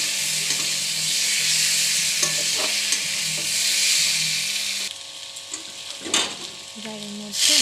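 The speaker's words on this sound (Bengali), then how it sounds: "এর মধ্যে এবার ভেজে রাখা আলুগুলো দিয়ে কিছুক্ষণ কষিয়ে নেব।" Fried potato pieces are stirred in hot oil in a pan for a Bengali bhola fish kalia curry: a steady close sizzle broken by scraping spatula strokes, with the sizzle easing partway through.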